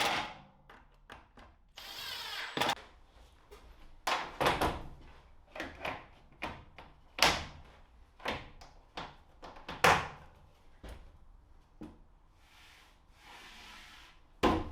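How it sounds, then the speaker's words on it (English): Bathroom cabinet door on newly fitted mounting brackets, opened and closed repeatedly, giving a series of sharp clacks and knocks with short scraping sounds in an irregular rhythm, close and fairly loud with no talking. "I screwed the mounting brackets to the cabinet and finally could test out the door."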